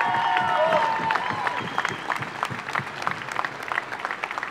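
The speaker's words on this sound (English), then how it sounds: "I'd like everybody to give these athletes a huge round of applause." An audience applauds quad rugby athletes at a championship medal ceremony, a dense burst of clapping from a crowd that tapers off over a few seconds, with a brief voice at the start.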